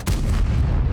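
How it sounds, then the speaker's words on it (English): A T95/FV4201 Chieftain tank cannon fires a high-explosive shell in a video game, one sharp heavy boom followed by a sustained low rumble, loud and close with no talk. "Obviously firing HE at him"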